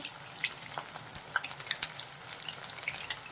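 Spiral chakli dough fries in hot oil, giving a soft, steady bubbling crackle dotted with small irregular pops, faint and close, with no talking.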